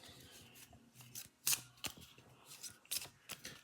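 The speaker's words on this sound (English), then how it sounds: "We'll do a simple shuffle." A deck of game cards is shuffled by hand at a tabletop, producing quiet, irregular riffling and snapping bursts up close, with several sharper flicks standing out from soft rustling.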